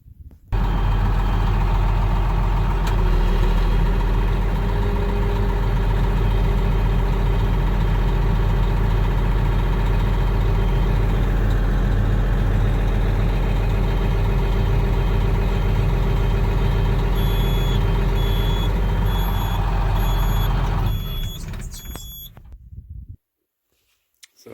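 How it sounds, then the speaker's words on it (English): A heavy disc drill tractor engine idles loudly and steadily with a deep rumble, then beeps briefly near the end before the engine cuts off. "I'm going to start the tractor now"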